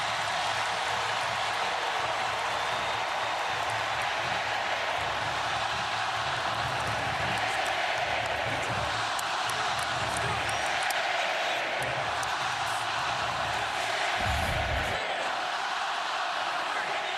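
A large stadium crowd at an SEC football game, Alabama against South Carolina, roars steadily and loudly throughout, a dense wash of cheering with scattered shouts and a brief deep thump near the end.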